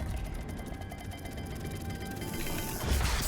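A puzzle dial mechanism in Hogwarts Legacy turns with a rapid, even series of faint ratcheting clicks and gear noise, ending in a slightly louder clunk.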